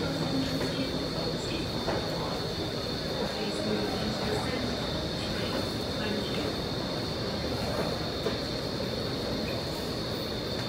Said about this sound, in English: Wait for this R train to leave.